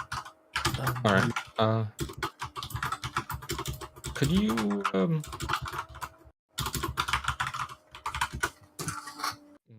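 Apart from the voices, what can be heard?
someone typing hard on a computer keyboard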